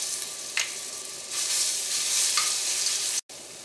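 Ginger garlic paste sizzles in hot vegetable oil in a pan, giving a soft, steady frying crackle with a few brief louder spits and a stirring scrape near the end.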